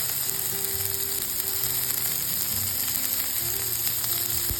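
Tomato paste and curry powder frying in a pan over turned-down heat, giving a continuous close sizzle with faint low clatter underneath, no talking.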